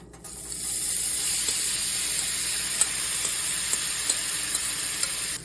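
Tofu sizzles as it hits hot olive oil and butter in a pan, making a steady close hiss with scattered small pops and crackles and no talking.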